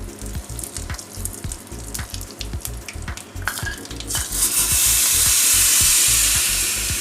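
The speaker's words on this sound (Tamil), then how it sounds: "கடுகு பொரிஞ்ச பின்ன ஜீரகம் சேர்த்துக்கலாம்." Mustard seeds and cumin crackle in hot ghee: rapid, rhythmic popping and utensil taps at first, then a loud, dense spluttering hiss that swells and holds to the end.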